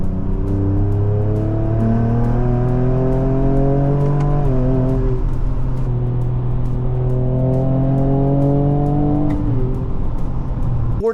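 A loud Ford 3.0L twin-turbo EcoBoost V6 in a Raptor revs steadily and climbs through gears, pitch rising then dropping at each shift, twice over, close and continuous.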